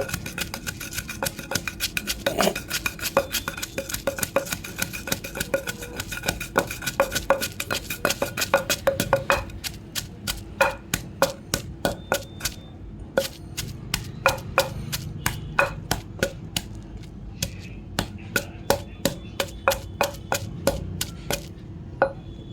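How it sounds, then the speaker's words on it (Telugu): Cumin seeds and raw mango pieces are pounded by hand for a mango roti pachadi, steady sharp thuds striking close and loud, first dense and overlapping, then slower, spaced blows. "ఇలా దంచేసుకున్న తర్వాత జీలకర్ర వేయాలండి. జీలకర్ర దంచాలి."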